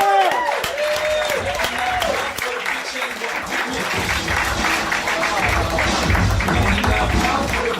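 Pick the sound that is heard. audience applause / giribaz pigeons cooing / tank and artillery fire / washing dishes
audience applause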